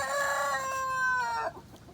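Rooster with big spurs crowing once, close and clear, a drawn-out cock-a-doodle-doo that trails off into quiet farmyard background.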